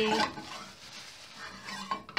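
Blended shallot and garlic sautéed in a pan for Madura bone soto, with a soft sizzle under close clinks of a utensil stirring against the pan.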